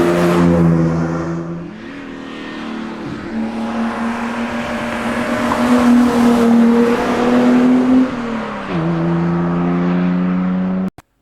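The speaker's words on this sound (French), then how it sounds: "On entend les explosions du moteur." A BMW CSL engine roars loudly while driving, its pitch holding steady then dropping and rising again with gear changes, close and continuous before cutting off abruptly.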